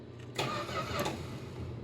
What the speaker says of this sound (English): as soon as I press the button, it should crank